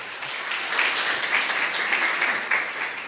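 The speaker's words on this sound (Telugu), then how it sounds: "అందరూ చప్పట్లు కొట్టి దేవుని కనపరచండి" Many hands clap together during a Christmas worship service in church, a thick, sustained round of applause that swells slightly midway and carries on steadily.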